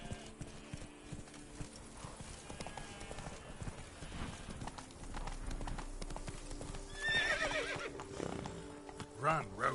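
Geralt's horse Roach gallops in The Witcher III, hooves clip-clopping in a quick rhythm with a whinny and neighs rising near the end, while characters talk over the ride.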